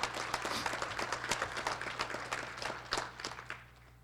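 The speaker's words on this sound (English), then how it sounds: "Let's give all of these employees another round of applause and welcome them to Terrace State" Audience at a college State of the College event applauding new employees: dense, sustained clapping from a crowd with a few sharper individual claps standing out, moderately near, gradually thinning and fading out at the close.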